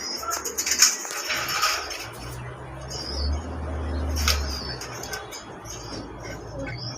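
A pair of fancy pigeons, at a large farm of red Rajgolla and other fancy breeds, coo with low rolling calls amid brief wing flaps and chirps from other birds, mid-distance and steady over light background noise.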